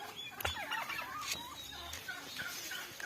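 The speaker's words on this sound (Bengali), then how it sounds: "এই যে এপাশে রোদের ভিতরে শুয়ে রয়েছে টার্কি মুরগি" Turkeys in an open field near a house, several birds gobbling and clucking in short warbling bursts at moderate distance over faint outdoor background noise.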